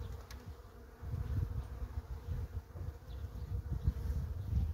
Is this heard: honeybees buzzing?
yes